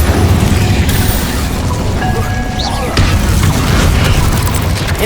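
Incendio fire spell cast in the Hogwarts Legacy video game, a loud sustained booming blast with crackling bursts and rumbling low end throughout, a brief whoosh around the middle, no talk over it.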